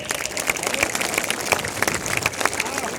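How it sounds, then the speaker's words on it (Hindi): Large crowd at a Rajput gathering in Delhi's Ramlila Maidan claps loudly, a dense continuous burst of applause with scattered sharper claps and faint voices underneath. "सब एक बार उनके लिए ताली बजाएंगे"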